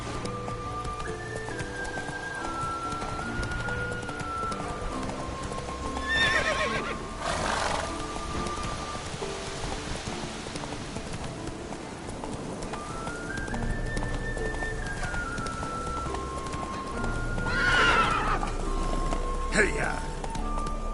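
Horse galloping and neighing in The Witcher 3 video game, steady hoofbeats under game music with two whinnies rising above, while a voice talks over the gameplay.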